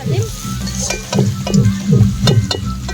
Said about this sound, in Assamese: মাংস বনাই আছোঁ আলু ভাজি আছোঁ